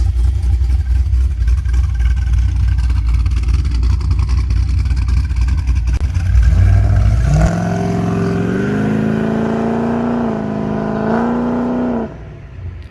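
A throaty 350 V8 engine in a 1970 Holden HG GTS Monaro rumbles at idle, then revs up with a rising, sustained roar before dropping back, loud and close.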